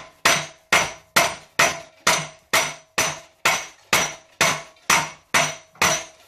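A lead shot mallet strikes a part on a Honda CB400T motorcycle engine to work it free, giving thirteen evenly spaced, sharp, ringing blows at close range with no talking.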